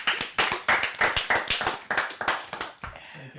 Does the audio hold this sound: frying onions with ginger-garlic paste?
no